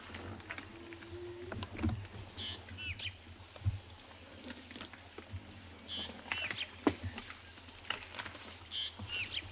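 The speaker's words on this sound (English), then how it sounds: "The birds are coming alive, starting to call and get ready for the day." Scattered bird chirps and calls at dawn in open South African safari country, faint and distant, with soft patter and low background rumble.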